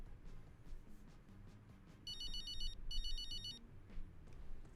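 A phone rings in the racing game Braking Point 2, two bursts of a trilling electronic ringtone over a soft musical background, fairly close and clear, no talking.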